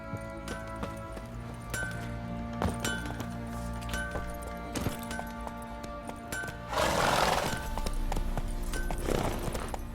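Horse in The Witcher 3 gallops with steady clip-clop hoofbeats under game music, and a burst of louder noisy whinnying or snorting rises near the end.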